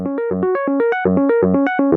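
A bright synthesizer arpeggio cycles quickly through repeating notes in a steady bouncing rhythm, clear and up front with nothing else.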